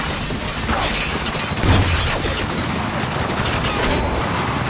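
Gunfire in the military shooter Spec Ops: The Line: dense, continuous bursts of shots and rattling fire fill the whole stretch at a loud, steady level, with a heavier impact near the middle.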